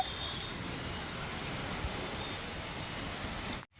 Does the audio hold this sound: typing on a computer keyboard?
no